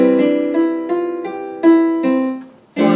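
Piano notes are played one at a time in a slow, steady stepwise pattern, each ringing briefly before the next, close and clear with no voices.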